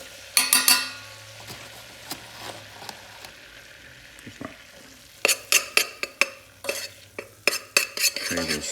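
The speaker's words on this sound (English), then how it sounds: "mix it in with the butter" Utensil stirring a mixture into melted butter in a pan, a run of close, sharp scraping and clinking strokes over a low sizzle, sparse at first and then quickening into a steady rhythm near the end.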